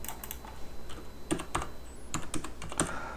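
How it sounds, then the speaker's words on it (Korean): Fingers tap the keys of a calculator in a quick, irregular series of close, crisp clicks, with short pauses between bursts and no talking. "그래도 한번 계산기로 두들겨 볼게요"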